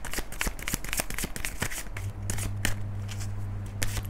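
Tarot cards being shuffled by hand during a reading, close and crisp with rapid riffling flutters and soft slaps, followed by a quieter stretch over a faint steady hum.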